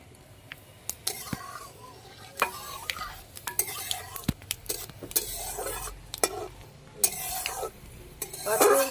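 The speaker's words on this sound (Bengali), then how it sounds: "ভালো করে গরম করে নেব ফোড়নে পাঁচ ফোড়ন দিয়ে দেবো" Panch phoron seeds crackle and sizzle in hot white oil in a kadai for cauliflower-stalk chachchari, with scattered sharp pops and spoon-on-pan clinks over a steady hiss, close and moderately loud.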